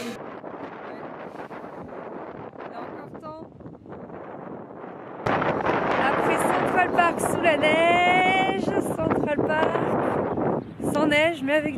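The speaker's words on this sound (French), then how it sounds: "Il y a énormément de vent là pour notre dernier jour" Strong wind buffeting a microphone on a final day in New York, a steady rumbling roar that grows much louder halfway through, with people talking throughout.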